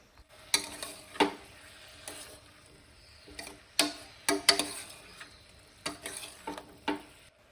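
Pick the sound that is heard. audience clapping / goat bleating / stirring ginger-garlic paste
stirring ginger-garlic paste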